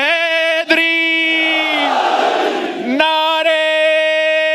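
A large crowd at a political rally led by Bilawal shouts slogans in long, sustained unison calls, loud and close, with a massed roar swelling in the middle before the chant resumes.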